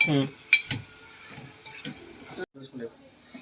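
Salt being stirred into a Telangana-style fish curry made with small fish, with spoon scrapes against the pot and a soft sizzle, plus a brief voice over the cooking.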